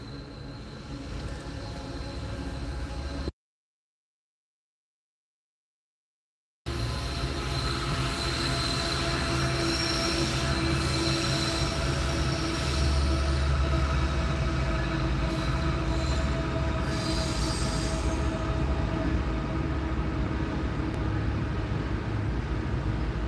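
A train rolls past on tracks right beside a home, loud and close, with a continuous heavy rumble and high metallic wheel squeals running through it, broken by a brief gap of silence early on.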